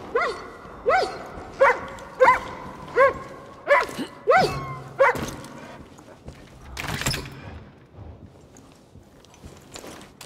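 Dogs in the video game Far Cry New Dawn bark in a steady run of about eight loud, close barks, then a clatter and a rising mechanical whir as the barking stops.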